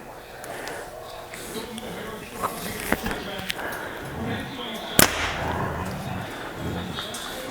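An arrow shot from a Prime Black 5 compound bow, a sharp snapping release followed by a loud crack near the five-second mark, with background noise and scattered smaller knocks but no talk heard.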